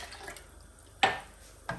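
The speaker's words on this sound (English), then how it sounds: "I can add a bit more water as well." Water splashes sharply into a karri pakora mixture of lassi in a home kitchen: a brief close pour, then a second smaller splash, over a faint background hum.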